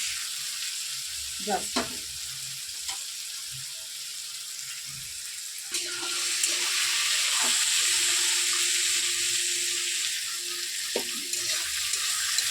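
Potatoes frying for chira pulao give a steady, close sizzle that runs throughout, with a few faint utensil knocks and no talk.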